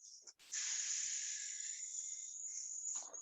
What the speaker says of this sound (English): we're going to play with this theta breath, which is a soft hissing sound like this